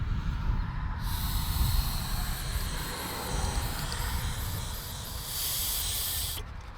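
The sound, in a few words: blowing air by mouth through a carburetor passage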